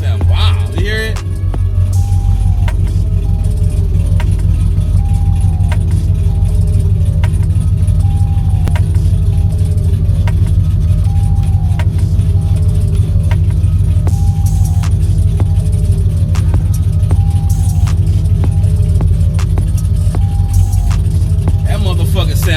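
A Chevrolet Camaro's engine holds a loud, steady low rumble close by for the whole stretch, with faint voices and occasional light clinks underneath.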